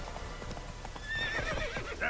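Video-game horse Roach clip-clopping along with quick hoofbeats, then a high whinnying neigh, heard at a moderate distance.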